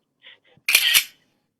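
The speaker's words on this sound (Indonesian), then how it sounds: "Suara kameranya wah, luar biasa. Jepretan." A camera shutter fires during a group photo at an online pharmacy webinar: a sharp double click, two quick bright snaps close together, preceded by faint small clicks, then silence.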